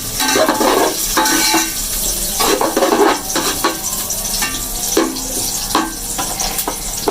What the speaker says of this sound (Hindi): अभी प्याज हमारी ब्राउन हो रही है।